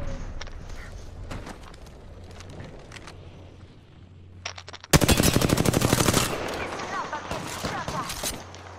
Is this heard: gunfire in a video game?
yes